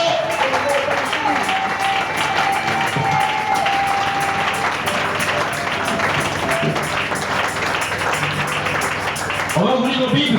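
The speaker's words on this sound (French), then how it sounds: "Acclamez très fort pour le Seigneur." Church congregation clapping and applauding loudly during a Sunday service, a dense continuous wall of applause with a held tone and voices, ending with a brief spoken word.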